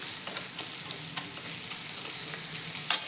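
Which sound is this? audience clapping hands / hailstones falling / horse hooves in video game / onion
onion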